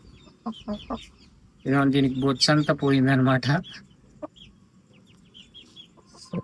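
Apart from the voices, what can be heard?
hen squawking while being caught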